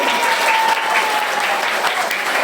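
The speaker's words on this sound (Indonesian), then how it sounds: "Iya, tepuk tangan." An audience at an Isra' Mi'raj commemoration claps steadily, a dense, fairly loud burst of applause filling the whole moment with a faint voice underneath.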